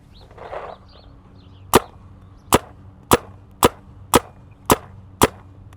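Seven sharp, evenly spaced gunshots from a gun during an accuracy test, loud close cracks about half a second apart against a quiet background, with a faint voice beforehand.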